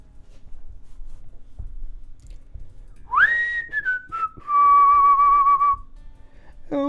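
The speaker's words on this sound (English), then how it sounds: "you whistled again" A person whistles a couple of clear, loud notes, one rising and sliding, then a sustained steady tone, after several seconds of quiet room noise.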